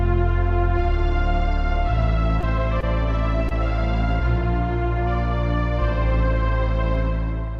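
Synthesized string patch played on a keyboard as a thin single line without harmony, sustained and steady with note changes every second or so, loud and alone.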